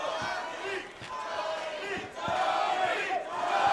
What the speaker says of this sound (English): Chant of Tony beginning.